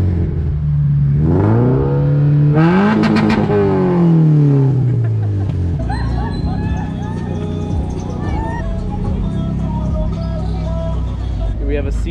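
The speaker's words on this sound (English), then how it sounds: "Rev it." An FRS sports car revs its engine on a Puerto Rico street, rising and falling in pitch up close, while people talk over it and other traffic noise carries on behind.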